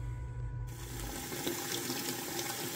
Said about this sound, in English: we're filling up a 5-gallon bucket here with tap water